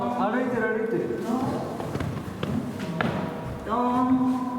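A hippopotamus at Sapporo City Maruyama Zoo in Hokkaido, Japan walks with a few heavy, dull thuds in the middle of the clip. Excited human voices talk over the footsteps at the start and end.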